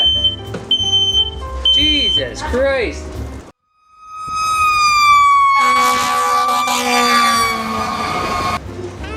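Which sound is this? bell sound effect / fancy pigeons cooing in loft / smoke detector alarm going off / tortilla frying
smoke detector alarm going off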